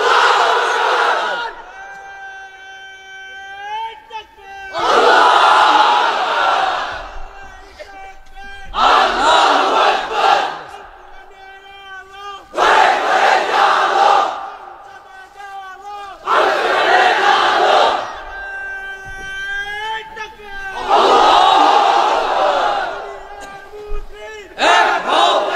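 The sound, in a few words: large crowd chanting takbir at religious gathering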